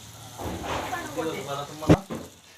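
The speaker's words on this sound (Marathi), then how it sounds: "असं तेल हापसून व्यवस्थित मोहर फुटेपर्यंत तळून घ्यायचे" Sesame-coated anarsa sweets deep-fry in hot oil with a soft, steady sizzle, and a brief louder crackle comes near the end while a person speaks over it.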